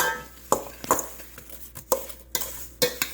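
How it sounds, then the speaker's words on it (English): A spoon mixes apple pie filling in a bowl, making a series of separate wet clinks and scrapes spaced roughly every half second, close and fairly quiet, with no talk. "I'm going to grab my spoon, and I'm going to mix this together."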